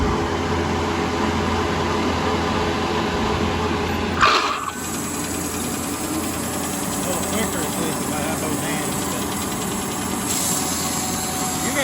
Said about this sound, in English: What I'm doing by cutting these boards off there